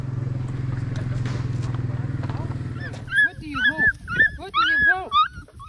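Hunting hounds after a fight with a predator, first a steady low whimpering drone, then a burst of high, rising yips and whines close by, with people talking over them.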